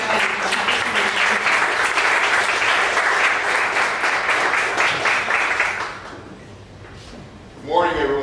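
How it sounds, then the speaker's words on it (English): Audience applause welcoming a presenter at a startup pitch event in Dallas, loud dense clapping for about six seconds that then fades out, followed by a brief voice. "We give a round of applause to welcome our presenter"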